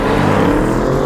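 A 2020 BMW M550i launching hard under launch control gives a loud, dense, sustained engine roar at full throttle, close and continuous for about a second with no speech.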